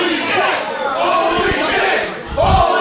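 A wrestling crowd roars after a power bomb through a door at an independent H20 Wrestling show, a loud, sustained mass of cheering voices that swells again near the end.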